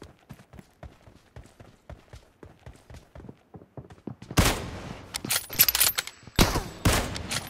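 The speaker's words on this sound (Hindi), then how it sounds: "बहुत ही अच्छा स्लाइड शॉट मारा यहाँ पर" Gunfire in a PUBG Mobile team deathmatch. A steady run of light, rhythmic footstep-like taps gives way to loud, sharp bursts of shots close by, with no talk over them.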